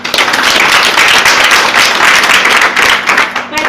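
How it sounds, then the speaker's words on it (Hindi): Loud, dense applause from an audience at an RCM business marketing talk, sustained and even throughout with no voice over it. "हम चाहेंगे उनके लिए जोरदार तालियां हो जाए।"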